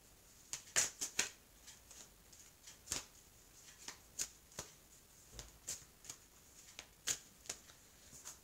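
A deck of tarot cards is handled close by, with sharp crisp riffle snaps and flicks coming in uneven bursts against a quiet background.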